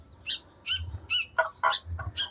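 A sooty-headed bulbul, a kutilang kept as a pet, gives a run of short, sharp chirps and whistled notes, about seven bursts in quick, uneven succession, close and clear against a quiet background.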